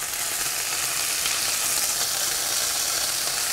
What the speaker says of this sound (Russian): Бекончик сюда отправляем на сковородку.